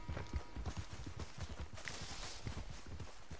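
Horse hooves clip-clopping in Red Dead Redemption 2, a steady rapid rhythm of close, fairly loud hoof beats running through the whole stretch over a constant game ambience, with no talking.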